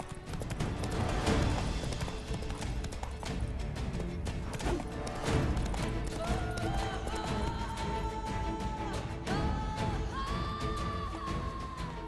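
Roach, Geralt's horse in The Witcher 3, clip-clops along in a quick, steady rhythm of hoofbeats, heard close over game ambience with a few thuds and short tonal sounds mixed in.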